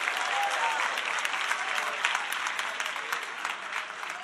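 A church congregation claps hands loudly together, a dense, continuous wash of applause that fades slightly toward the end, with no clear speech.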